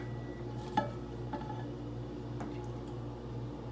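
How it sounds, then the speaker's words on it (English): Soft scraping and squishing as a fork stirs microwaved ramen noodles, with a few light clinks against the bowl, quiet and close over a steady background hum. "I'm going to take my fork, just stir it a little bit."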